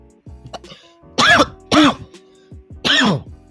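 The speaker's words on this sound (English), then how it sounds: "COVID cough" A few sharp, throaty coughs close by, three main bursts with short pauses and small throat-clearing sounds between them.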